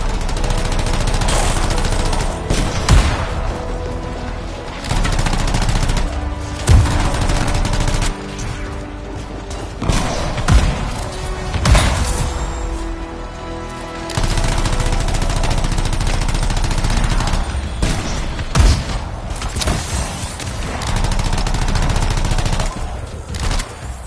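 Gunfire in the Anthem video game, steady machine-gun-like bursts and scattered loud shots rattling continuously over a dense, roaring combat mix.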